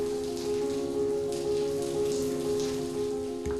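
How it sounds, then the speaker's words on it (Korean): Afternoon rain falls steadily, a dense, even patter on surfaces with a faint sustained hum beneath it, continuous and moderately close throughout. "때이른 더위를 식히는 비가 내리는 오후."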